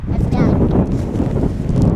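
Steady wind gusts buffet an outdoor microphone on a breezy day with grass blowing about, a continuous rumbling roar that sits under people talking nearby.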